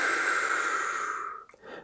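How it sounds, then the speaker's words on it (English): Slow, steady breath pushed out through the mouth as a soft whoosh, a calming exhale held nearly two seconds before tapering off, followed by a faint short intake. "slowly exhale through the mouth for 8 seconds and make a whoosh sound"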